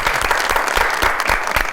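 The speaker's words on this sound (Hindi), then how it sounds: "खान साहब के लिए बहुत सारी तालियां जी।" An audience at a studio talk show claps steadily, a dense, even wash of applause without voices.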